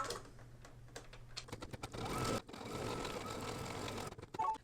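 An embroidery machine tacks down the back of a quilted mug rug, its rapid needle stitching running steadily and fairly close, with brief pauses and a short break midway.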